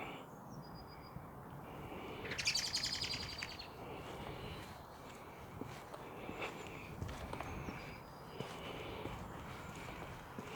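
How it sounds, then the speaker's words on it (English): Birds chirp and twitter faintly along a tree-lined road, with brief high calls scattered over a soft outdoor background and light footsteps on the ground. "you can hear the birds singing away everywhere around here"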